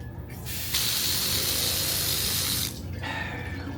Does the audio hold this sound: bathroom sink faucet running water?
yes